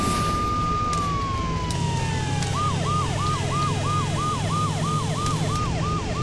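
A police siren in the PC racing game Crazy Cars: a long falling wail gives way to a rapid repeating yelp, loud and steady over a droning engine hum.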